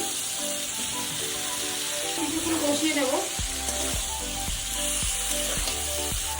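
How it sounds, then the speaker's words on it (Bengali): Fried potatoes and cauliflower tipped into a frying spice paste for a prawn cauliflower curry, a loud close sizzle with stirring, followed by a series of regular spatula knocks against the pan. "এখন আমি ভেজে রাখা আলুটা দিয়ে দিচ্ছি ফুলকপি দিয়ে দিচ্ছি"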